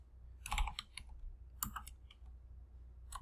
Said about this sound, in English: So let me type a little bit and then I'll explain what's going on.